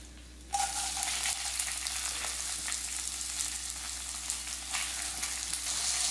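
Drained rice for restaurant-style jeera rice hits a hot pan and starts frying, a sudden loud sizzle that stays steady and close, with faint stirring scrapes mixed in.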